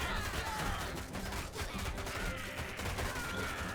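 A machine gun fires in a real-time strategy game, making continuous dense rattling gunfire that holds steady and loud through the whole stretch amid battle noise.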